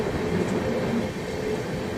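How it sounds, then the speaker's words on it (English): A train on the Jaipur to Rewari line slows on the track for work ahead, a steady low rumble with faint wheel clatter running throughout. "I don't know why the train is slowing down due to the caution of some work on the track"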